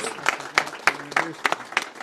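An audience at a Danville celebration for the expansion of The Brick claps in a firm, evenly spaced rhythm, about seven sharp beats with voices carrying underneath.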